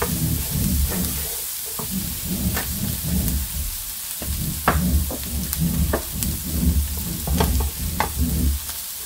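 Onions frying in a pan for a currywurst recipe, a continuous crackling sizzle broken by irregular scrapes and clatters as a utensil stirs them, close and fairly loud with no voices.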